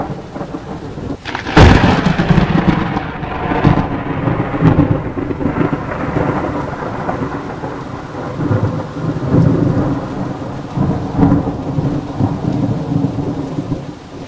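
Thunderstorm with steady heavy rain, a sharp loud thunder crack early on followed by rolling rumbles that swell and fade over continuous rainfall, no voices.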